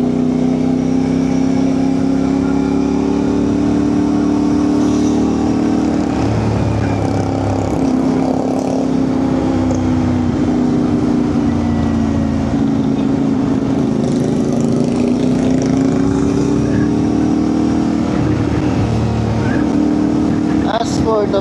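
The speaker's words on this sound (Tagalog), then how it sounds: "So most definitely from 80 above, dinig nyo na yung wind noise nito." Steady rushing wind noise buffets an LS2 Dragon motorcycle helmet at riding speed above 80, a loud constant roar with a low engine drone running underneath throughout.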